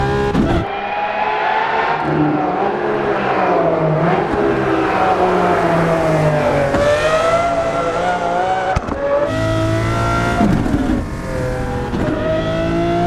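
Lamborghini Aventador SVJ at full throttle on the Nürburgring straight, a loud, continuous engine roar with rising harmonics that climb through the gears, briefly dipping at shifts before pulling hard again.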